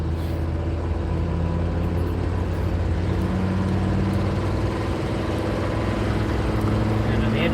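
A truck with around 300,000 miles on it drives along a highway, its engine and road noise forming a steady, loud low drone with a rough, uneven hum that runs through the whole stretch.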